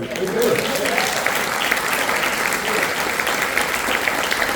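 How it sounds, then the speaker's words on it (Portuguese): Church congregation applauding the Lord during a worship service, steady dense clapping throughout with voices underneath, loud and close. "Quem pode dar uma aplauso ao Senhor?"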